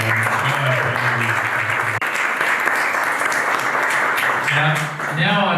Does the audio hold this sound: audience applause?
yes